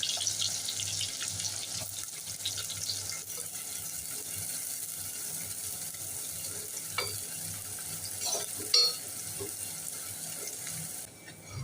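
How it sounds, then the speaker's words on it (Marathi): Sliced onion frying in oil for mutton biryani, a continuous crackling sizzle with a few spoon scrapes and knocks against the pan near the end, no talking. "आता आपण उभा चिरलेला कांदा थोडा फ्राय करून घेऊया"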